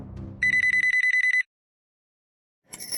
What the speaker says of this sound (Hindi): तुम लैंडलाइन पे फोन कर रहे हो।